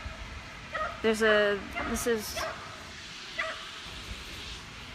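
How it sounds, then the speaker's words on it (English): Dog whimpering and yelping at a dog park, apparently scared of the water, a few short high-pitched cries close by between bursts of people talking, with outdoor background noise. "Is that dog dying? Oh, it's scared of the water."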